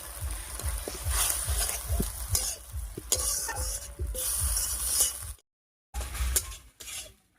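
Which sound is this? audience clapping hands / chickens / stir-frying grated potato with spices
stir-frying grated potato with spices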